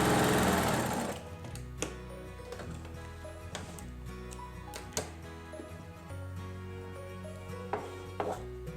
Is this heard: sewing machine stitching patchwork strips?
yes